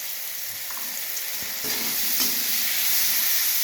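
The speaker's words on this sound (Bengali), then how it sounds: "আমাদের আমগুলো হচ্ছে ভালো রকম ভাজা ভাজা হয়ে গেছে" Mango pieces sizzle and fry with turmeric in hot oil for a sour mango dal, a steady close hiss that grows slightly louder partway through, with no talking.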